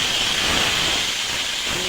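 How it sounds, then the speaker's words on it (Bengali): A paste of black mustard, cumin and green chilli fries in oil in a pan, giving a loud, continuous, close sizzling hiss without pause. "এটা একটু ভেজে নেব।"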